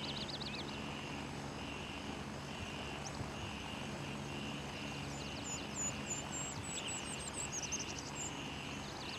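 In the military shooter game Gray Zone Warfare, a helicopter's rotor drone holds steady and moderately distant beneath jungle ambience of birdsong and buzzing insects, with no talking.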